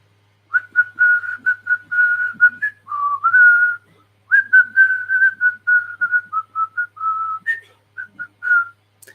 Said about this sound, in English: That was supposed to be Jingle Bells, but I'm not sure it ended up as Jingle Bells.